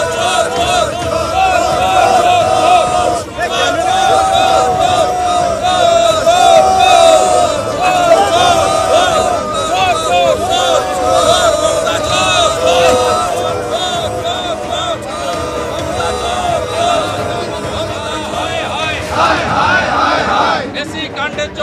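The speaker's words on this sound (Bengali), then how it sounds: "বিধাননগর কমিশনারেটের সামনে উঠল চোর চোর স্লোগান" Protest crowd outside the Bidhannagar police commissionerate, chanting the 'chor chor' slogan: a loud, dense mass of voices that stays steady and continuous, with rhythmic shouting and cheering throughout.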